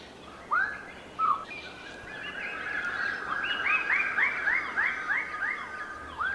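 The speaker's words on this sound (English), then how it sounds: "These lesser birds of paradise are displaying on a communal tree." Lesser birds of paradise calling while displaying on a communal tree in New Guinea forest: a few loud separate whoops, then a rapid rising series of ringing, repeated calls over a steady background hum of insects.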